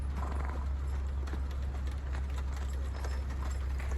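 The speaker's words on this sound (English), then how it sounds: "Over here we got a bunch of horses." Horses near a tourist stagecoach in the tower area of northeastern Yellowstone, their hooves clip-clopping in a steady uneven patter at middle distance over a constant low outdoor rumble, with no talk.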